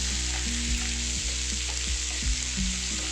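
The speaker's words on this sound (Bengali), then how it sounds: "গোটা গোলমরিচ কিছুটা ফাটিয়ে দিলাম, কিছুটা গোটা দিয়ে দিলাম। এটা ভালো করে ভাজবো।" Whole and lightly crushed black peppercorns fry in hot oil for a Bengali doi maach fish dish, giving a continuous close sizzle with a low steady hum and a few faint clicks beneath, no speech.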